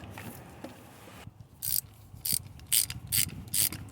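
A ratchet driving a socket on a Hummer H3 spark plug gives several close, sharp bursts of rapid clicking, separated by short pauses.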